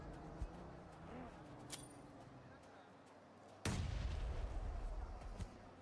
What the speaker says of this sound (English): STG just casting the nades towards them